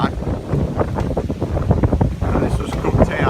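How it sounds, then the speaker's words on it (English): Strong, steady trade winds at Cooktown, Queensland buffet the microphone with a dense low roar, loud and continuous throughout, with faint voices in the background. "Very windy. Trade winds, yeah."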